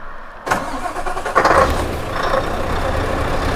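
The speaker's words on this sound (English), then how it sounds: "Okay, so I have the stacks turned off. We'll do one startup with the stacks off." Scania 770 S V8 truck with its exhaust stacks switched off starts up, the cranking hitting at about half a second and catching into a loud, steady diesel idle, with a further surge partway through.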